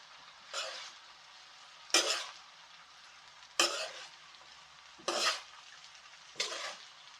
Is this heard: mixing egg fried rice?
yes